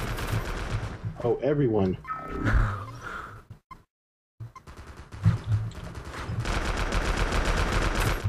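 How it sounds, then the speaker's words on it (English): Video game gunfire in rapid automatic bursts, loud and close, mixed with excited shouting voices, a brief silent gap midway, then more sustained firing. "Who's shooting at me?"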